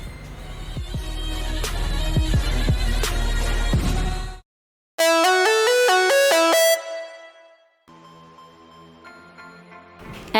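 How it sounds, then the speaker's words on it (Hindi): An incoming-call ringtone sounds on a phone, a loud melodic tone pattern that stops briefly, then resumes with a bright repeating tune before fading, with no talking. "एमएलए साहब का फ़ोन आया है।"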